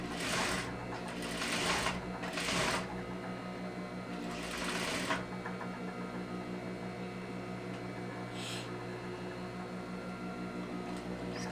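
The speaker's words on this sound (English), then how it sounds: "Let me stitch one side." A sewing machine stitches one side of a separating zipper with a facing, running in several short bursts and then a steady whirring hum, close and clear.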